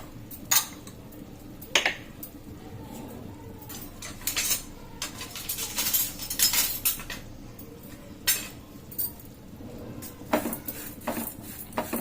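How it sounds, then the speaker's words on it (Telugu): Fenugreek and cumin seeds roast in a pan while a metal spoon stirs and scrapes, giving sharp intermittent clinks over a soft sizzle, close and alone. "ఇవన్నీ కొంచెం మంచిగా దూరగా వేయించుకోవాలండి"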